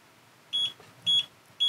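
Three short, high electronic beeps from a Radiomaster T8 Lite radio transmitter entering D16 bind mode, each a quick double pulse, evenly spaced and fairly faint against a quiet background.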